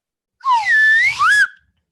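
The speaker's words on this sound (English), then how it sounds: "Let me sound the official spoiler horn." A podcast spoiler horn is played as a single whistle lasting about a second, with bright warbling pitch sweeps, sliding up and down, loud and close with no talking over it.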